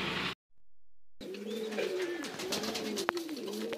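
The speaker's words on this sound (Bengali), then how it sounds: "সুন্দর এক জোড়া কবুতর" A pair of large pigeons kept for sale coo close by in a steady series of soft, rolling, repeated calls, with no talk over them.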